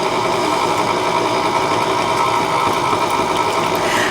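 Electric mixer beating lemon buttercream at low speed, a steady, loud, close motor whir with a rattling hum that holds unchanged throughout, no voices.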